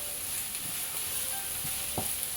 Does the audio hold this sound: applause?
no